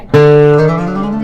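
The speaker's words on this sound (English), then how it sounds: "if I want to do a jaru or a glissando on a guitar, it would sound like this" A plucked guitar note slides upward in small stepped jumps, ringing on and fading slowly, with no other sound around it.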